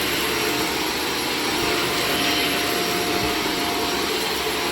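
A carpet-cleaning vacuum works on heavily soiled carpet, producing a loud, steady whining roar with a high-pitched tonal edge that runs continuously without talk.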